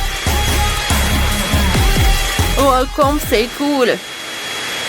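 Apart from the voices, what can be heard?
hair dryer melting chocolate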